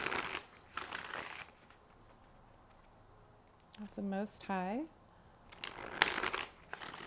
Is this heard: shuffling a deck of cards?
yes